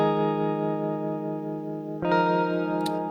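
A Synthstrom Deluge synth plays sustained chord tones washed in chorus, delay and reverb, holding a steady pad that shifts to a brighter, denser chord partway through, loud and close with no talking.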